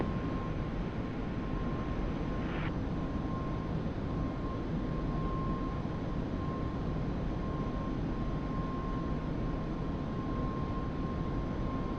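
An F-16 jet in DCS World idles on the runway in a cold-war Germany scenario, a steady, moderate engine drone with a faint thin whine, no talk over it.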